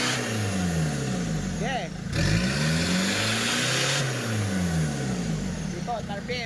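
Isuzu Trooper engine revving up and holding in the upper RPM range, a loud steady drone with rising and falling pitch sweeps, while someone speaks briefly over it.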